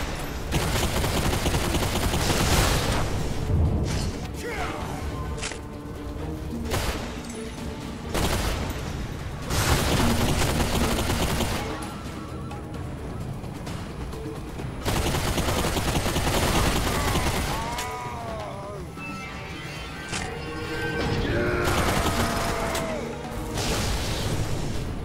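Repeated bursts of gunfire in Bulletstorm VR, loud rapid volleys and booms that come in waves across a chaotic firefight, with little speech.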